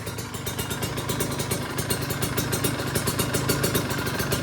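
Red Kawasaki Ninja RR motorcycle engine running at idle up close, a fairly smooth two-stroke putter with a rapid, steady clattering pulse throughout.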